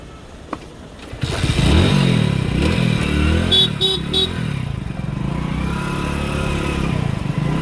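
A motorcycle is started with a kick and settles into a steady, close running engine note. Muffled voices and a brief beeping tone sit under the engine.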